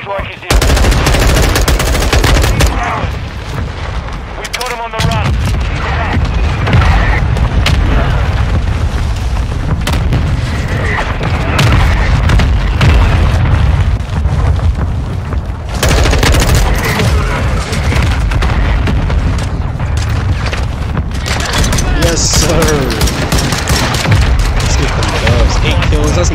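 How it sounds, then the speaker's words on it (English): Mortar strike explosions and heavy gunfire in Modern Warfare 2 on PC, loud and continuous throughout, with booming impacts layered over rapid automatic fire and clattering shots, the battle noise dense and close. "Our mortar strike is in."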